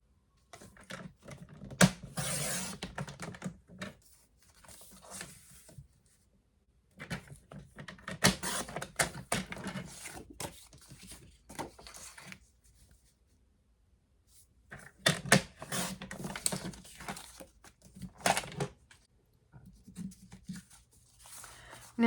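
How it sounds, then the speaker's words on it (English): Paper trimmer slicing card stock into panels for a stamped greeting card: repeated short scraping, sliding cuts in bursts, close and moderately loud, separated by quiet pauses. "Grab your trimmer and cut those where the pencil marks are."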